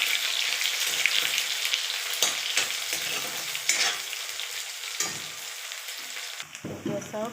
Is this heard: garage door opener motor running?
no